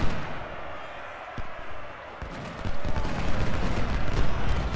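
Dense, continuous booms and crackling gunfire from the video game Ultimate General: Civil War, loud and close, with rumbling cannon blasts blending into a constant barrage.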